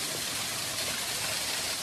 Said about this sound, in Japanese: これが滝かな